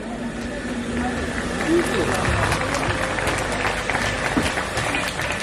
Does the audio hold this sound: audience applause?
yes